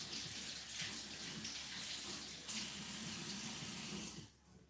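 Water runs steadily from a tap in a home as a hand-washing stream, a loud continuous close-up rush that cuts off near the end.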